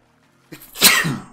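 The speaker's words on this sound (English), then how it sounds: "Jeez, I'm sneezing." A single loud sneeze bursts out after a short quiet, with a quick inhaled lead-in followed by a forceful explosive release that trails off briefly.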